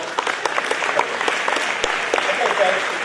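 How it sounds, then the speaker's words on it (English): An audience at a presentation evening gives a round of applause, several seconds of dense, moderately loud clapping with voices mixed underneath. "Give a round of applause."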